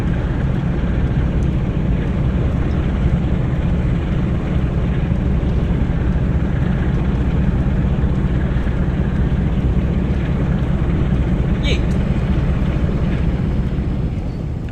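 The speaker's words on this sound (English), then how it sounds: "So you hear the engine die down." The diesel engine of a Class 45 locomotive in Train Sim World runs as a loud, steady, broadband rumble heavy in the low end and holds almost unchanged throughout, with no voices over it.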